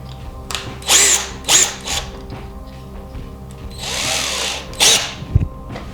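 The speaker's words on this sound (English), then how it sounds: "So I need my drill and an 11/64 drill bit." A power drill with an 11/64 bit whirs in several short bursts, then one longer run, close and loud, with quiet pauses and a small clunk between.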